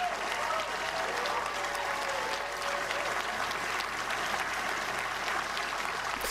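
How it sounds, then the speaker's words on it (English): Steady applause from an audience continues evenly throughout, with a faint voice running underneath. "You should clap for him."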